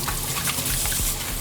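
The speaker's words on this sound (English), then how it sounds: "I'm gonna go wash my hands" Hands being washed under a running tap, a steady close rush of water with small splashes and no talking.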